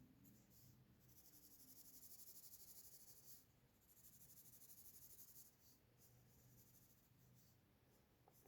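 Pencil sketching short hair on paper, a soft, faint scratchy rustle of quick strokes that comes in bursts with brief pauses, close and quiet.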